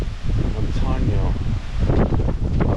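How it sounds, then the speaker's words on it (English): Wind gusts across a cemetery, a steady broadband rush with rustling, loud throughout, and a voice talking over it. "The wind's kind of blowing, you guys."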